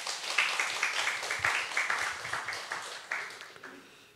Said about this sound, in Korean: 우리 한번 박수 한번 하겠습니다